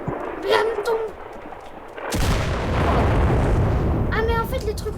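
A video game explosion bursts into a loud, broad rumble that roars for about two seconds before fading. Players talk just before the blast, and a voice returns as the rumble dies down.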